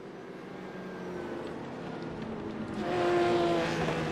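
Four GT sportscars battle side by side for position in a Road America sim race, engines droning at a distance and then swelling louder as the pack closes in.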